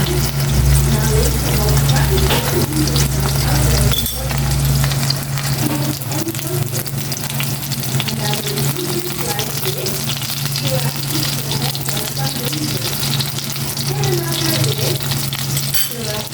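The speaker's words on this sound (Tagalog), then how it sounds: "Nagpiprito naman ako ng stainless pork ngayon" Steady, close sizzling of pork frying in hot oil runs throughout, with a low background hum and occasional clinks of utensils.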